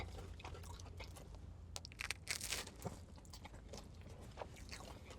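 Crunchy oxtail pizza crust being chewed and bitten up close, a run of crisp crackling crunches with a few sharper bites in the middle, no talking.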